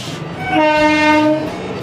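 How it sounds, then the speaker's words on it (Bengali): A passing local train overtaking an express sounds a loud, sustained horn blast over the rumble of the rails, the horn swelling and then fading away. "আমাদের এক্সপ্রেসকে ওভারটেক করে লোকাল ট্রেন বেরিয়ে যাচ্ছে"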